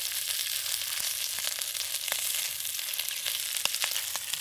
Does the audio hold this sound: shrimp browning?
yes